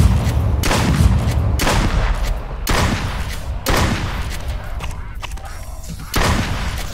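Gunshots at ducks in the video game Duck Season, a series of heavy booming shots spaced about a second apart, loud and close with some trailing echo.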